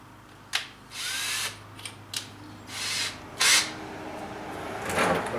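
A power drill bores through the wall of a truck bed in several short, loud whirring bursts separated by brief pauses.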